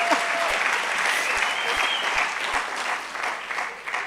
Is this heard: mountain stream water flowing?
no